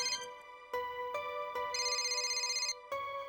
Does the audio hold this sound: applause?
no